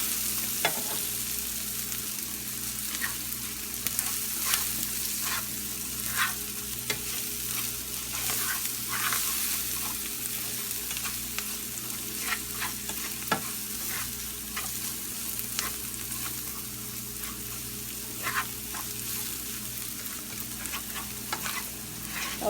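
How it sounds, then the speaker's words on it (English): Browned onions and garlic sizzle steadily in a frying pan while a spoon stirs them, giving a constant close hiss with frequent light scrapes and taps against the pan, and nobody speaks. "you can continue stirring and incorporating your onions"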